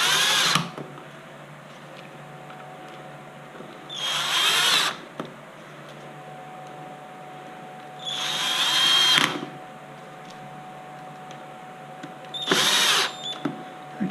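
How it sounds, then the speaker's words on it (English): A power drill drives four screws fastening a motor controller back into its housing during an MGI Zip Navigator gearbox replacement, giving four short whirring bursts separated by pauses, close and fairly loud over a steady low hum. "we'll use these 4 screws to fasten the controller back into the housing"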